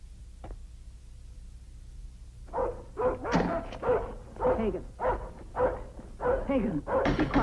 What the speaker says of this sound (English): be quiet. Stop barking.